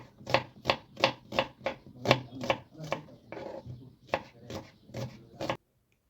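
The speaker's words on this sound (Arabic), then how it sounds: "هاتي بقى حوالي بصلتين كده وقطعيهم جوليان" Knife chopping onions into julienne strips on a cutting board, about thirteen quick, evenly spaced cuts in a steady rhythm, close and clear with no talking.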